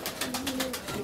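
Tame domestic pigeons in a dovecote cooing, a soft low rolling coo heard close over a hissy, rustling background, brief and continuous.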